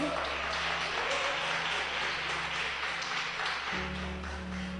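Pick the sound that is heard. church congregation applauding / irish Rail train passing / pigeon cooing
church congregation applauding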